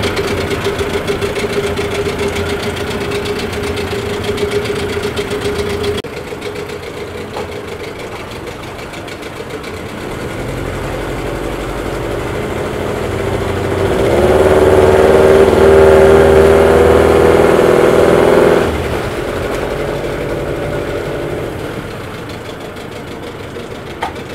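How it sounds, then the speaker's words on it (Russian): A car engine idles steadily, then revs up louder for a few seconds before settling back to a steady idle; no talking. "мотор работает хорошо"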